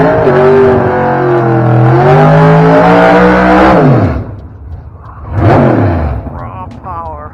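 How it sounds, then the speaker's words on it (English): A drag racing car at New England Dragway revs hard and close, its engine roaring loudly and climbing in pitch before dropping off, then surging again in a second rising burst. "That's a real race car."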